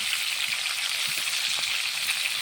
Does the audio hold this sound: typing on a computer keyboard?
no